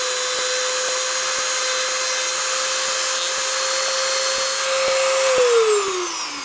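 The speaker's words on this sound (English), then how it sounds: "all these flat edges are kind of sharp too, so I'm going to sand these guys down too" A small rotary power tool sanding the sharp flat edges of metal anchor necklace pieces, giving a loud, steady high whine with a faint repeating tick that drops slightly in pitch near the end.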